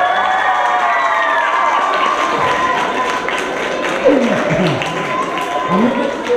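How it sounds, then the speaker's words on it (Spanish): Crowd at a clown show put on by Mexico City's public security department, cheering, shouting and applauding together in a loud continuous roar, with children's voices and a few thumps standing out. "¡Aplausos y gritos!"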